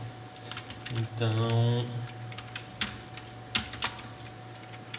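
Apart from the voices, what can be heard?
typing on a computer keyboard while programming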